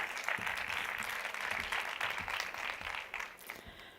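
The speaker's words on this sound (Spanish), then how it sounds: "Un aplauso, por favor." Audience at a conference talk on cognitive diversity applauds, a continuous, even patter of many hands clapping, moderately distant and uniform from start to finish.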